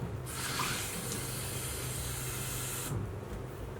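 Water pours steadily from a cup into a baking dish of Turkish stuffed eggplants topped with passata, a continuous close splashing hiss for about three seconds that stops abruptly.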